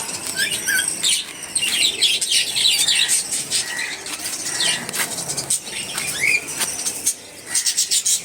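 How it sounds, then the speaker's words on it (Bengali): Many small colourful birds, including munias, chirp and twitter together, with fluttering wings and scattered sharp calls, fairly close and lively throughout, at an ashram in Bankura. "এই নানা রকম কালারফুল সব পাখি এরা"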